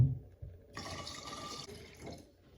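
Clabbered goat milk poured from a container into a jar, a close splashing, trickling flow lasting about a second before tapering to quieter drips.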